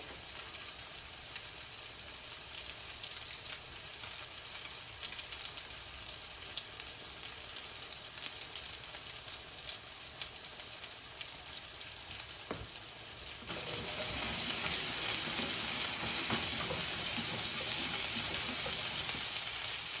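Paprika meatballs fry in a pan with a steady, dense sizzling hiss that holds evenly and then grows noticeably louder and brighter partway through, close by with no voices.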